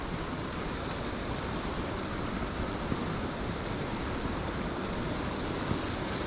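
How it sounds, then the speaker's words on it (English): Steady broadband rush of whitewater rapids on a small stream beside a swamp at Whittle Dene, continuous and close with no voices. "Some whitewater rapids just down here."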